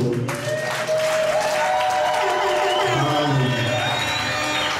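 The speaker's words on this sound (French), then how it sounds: "Et quand c'est debout, on applaudit aussi à son tour." Wedding guests at a church-style ceremony break into applause and cheering, a loud crowd with clapping, whoops and raised voices, and a sustained tone runs underneath.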